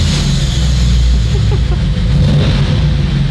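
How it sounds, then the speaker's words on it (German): A Mercedes-Benz 500GE G-Wagon with a V8 engine rumbles loudly and steadily, a deep low-pitched drone that holds throughout without a distinct rev peak and with no talking. "Unfassbar brutaler V8-Klang."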